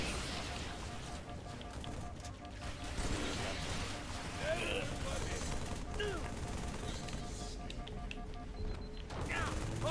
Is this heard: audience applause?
no